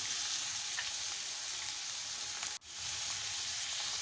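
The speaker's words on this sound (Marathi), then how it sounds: "कांदा घालून घेते आणि व्यवस्थित परतून घेते" Onion sautéing in oil with green chillies for poha, a steady bright sizzle, close and fairly loud, with one brief dip as it is stirred and no talk.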